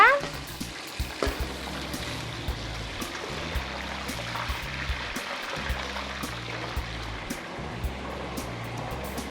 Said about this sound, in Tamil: இப்போ பாருங்கள் மஷ்ரூம் வந்து நல்லா வந்து ஃப்ரை ஆகிட்டுருக்கு